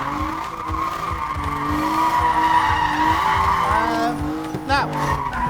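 An E46 BMW drifting at a drift school: loud, sustained tire squeal over a revving engine close by, ending in a rising, wavering screech, with talk mixed in.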